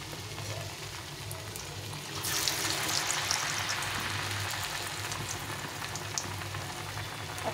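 Batter-dipped pumpkin slices frying in hot oil, a dense crackling sizzle that swells louder partway through and then holds steady and close, with no voices.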